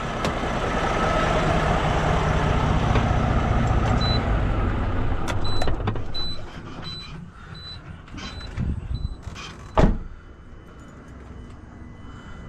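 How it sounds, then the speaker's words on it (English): A truck engine running steadily, then shutting off around six seconds in, its broadband rumble dropping away to a quieter background with a few clicks and a brief thump. "I'm gonna turn the truck off so I can show y'all something to check"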